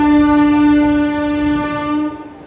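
A Narayanganj commuter train, running on a Turag commuter rake in Bangladesh, sounds a long steady horn blast that holds loud for about two seconds and then cuts off, with faint rail rumble beneath.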